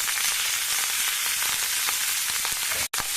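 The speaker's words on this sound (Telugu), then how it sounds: "ఈ పాలకూర పప్పులో ఈ తాలింపుని వేసేస్తాను" Steady, loud sizzling of tempering spices hitting hot oil for spinach dal, a dense crackling hiss throughout with a brief cut near the end.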